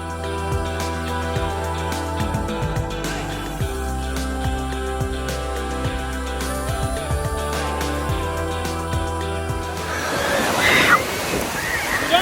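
Surf and waves wash onto a Maryland beach in a steady broadband rush, with what sounds like background music tones running underneath and a louder burst of splashing near the end.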